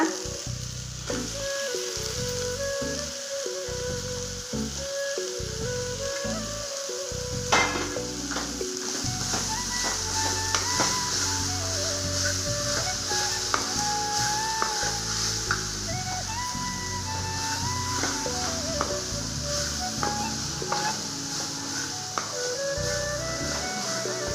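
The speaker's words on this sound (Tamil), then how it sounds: "இப்போ வந்து நம்ம இந்த காய் எல்லாத்தையும் சேர்த்து வதக்கலாங்க" Chopped vegetables and masala sizzle steadily in a hot pan, with frequent stirring scrapes and occasional utensil taps against the pan throughout, close and continuous.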